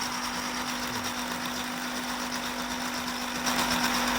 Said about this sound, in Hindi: ये देखें कितने अच्छे से जो है वो ग्राइंड हो रहा है।